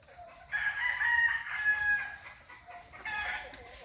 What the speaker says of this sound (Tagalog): Tiningnan ko lang yung manok ko guys, yung mga tandang.